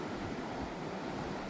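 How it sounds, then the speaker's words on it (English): Waves breaking on a beach on an overcast, windy day, a steady broadband wash of surf with wind noise, continuous and fairly close, with no voices. "there is nothing more calming than the sound of waves hitting the beach."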